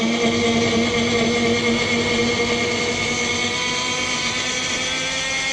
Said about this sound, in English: A small little blender.